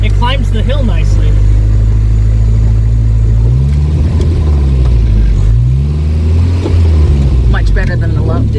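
A 1967 Volvo Amazon 122S engine pulls uphill in first and second gear, giving a loud continuous drone with rising and falling revs as it shifts. People talk over the engine.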